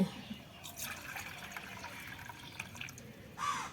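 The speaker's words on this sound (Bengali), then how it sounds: "আমি জল দিয়ে দেবো প্রথমে দিয়ে দেবো চার বাটি" Water poured into dry rice flour in a kitchen for a papad recipe, a faint steady trickle and splash that swells briefly at the end.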